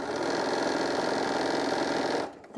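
A sewing machine runs steadily while stitching a stretchy fabric shoulder wrap, its continuous motor whir close and even for over two seconds before it stops abruptly.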